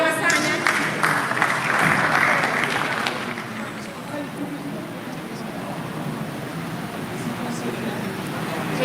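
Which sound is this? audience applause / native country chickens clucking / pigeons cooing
audience applause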